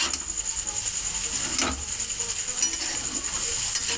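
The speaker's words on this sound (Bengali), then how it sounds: "নুনটা দিয়ে আবার একটু নেড়ে নেবো।" Salted chow mein noodles are stirred in a hot pan, giving a continuous close hissing sizzle with light scraping and clicking from the utensil.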